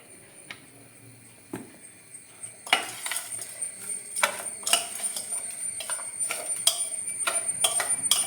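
Lemon pieces are worked by hand with rock salt, green chilli and coconut oil in a dish, a close, continuous patter of wet squishing, scraping and light clinks that grows busier and steadier.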